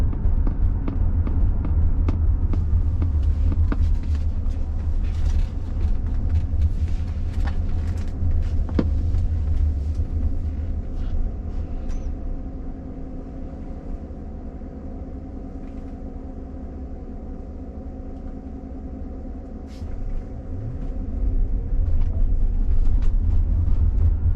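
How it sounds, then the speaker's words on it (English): Waymo driverless car accelerating hard on a suburban road up to about 40 mph, heard from inside as a steady low engine and road rumble that dips briefly and then swells again, with no talking. "So it really hits the gas to get up to 40 on this road."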